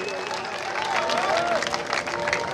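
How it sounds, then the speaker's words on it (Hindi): Listeners clap at a devotional Devi Jagran singing event in Buxar, a brisk patter of applause with crowd murmur and a voice talking over it. "बढ़िया लागल हो तो ताली बजाई"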